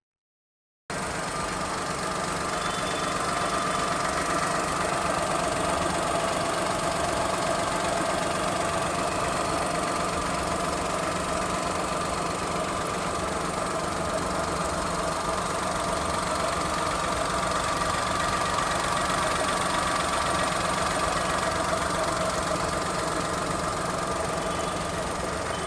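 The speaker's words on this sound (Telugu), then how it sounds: "ఇది మనకి ఇంజన్ సౌండ్ కూడా మీకు వినిపిస్తాను" A Maruti Alto 800 petrol car engine idles steadily and close by, a continuous even rumble with slight knocking vibration running the whole time with no talk.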